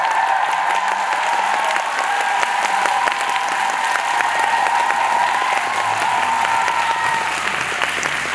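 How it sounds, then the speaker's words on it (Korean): Fan concert crowd in Seoul applauding the backing band, dense sustained clapping and cheering that stays loud and even, with a faint tone held beneath. "오늘 무대 처음부터 끝까지 저희 반주를 책임져 주신 우리 밴드 팀께 박수 한번 주시죠."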